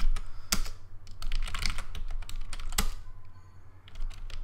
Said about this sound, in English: If I type my password in correctly